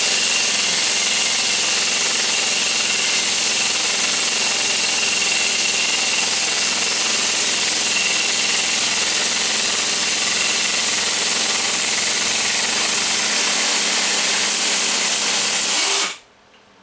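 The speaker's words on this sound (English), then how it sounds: "I'll try it with an impact gun," A pneumatic impact gun hammers steadily at a rusted, crusty bolt, a loud continuous rattling buzz that runs for about sixteen seconds before cutting off abruptly, with no talking over it.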